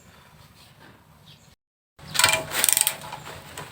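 A nut is loosened from the mount holding an old automatic water pump to its motor, giving faint metallic fiddling, then a short silence, then louder clicking and scraping from the wrench.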